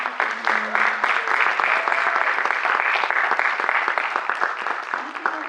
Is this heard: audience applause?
yes